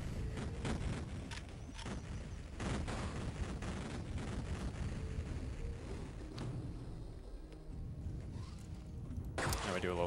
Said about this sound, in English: I have to wait for a little bit for all these explosions.